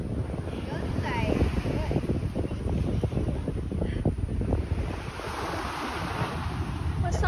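Sea waves and blustery wind at Marina Bay in Singapore, a constant rough rushing wash with wind buffeting the microphone, and faint voices in the background.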